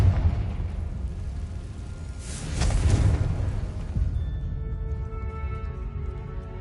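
Confringo spell explosion in a video game: a broad rumbling burst swells in the middle and fades into a low, lingering roar, set against steady background rumble.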